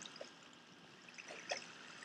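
Small waterfall trickling beside a water slide in the video game Minecraft, a faint, steady splashing with a few soft splashes and pops.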